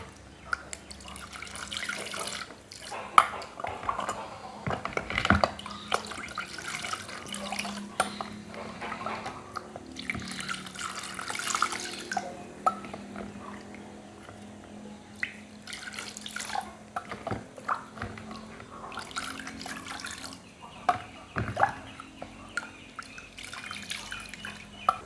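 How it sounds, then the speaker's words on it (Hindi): Ice going into strained falsa juice and being stirred, with scattered clinks, drips and splashes of liquid against a container, fairly quiet and irregular. "अब हम इसमें बर्फ़ डालेंगे और अब इसे मिक्स कर लेंगे।"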